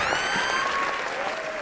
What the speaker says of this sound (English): Applaud yourself.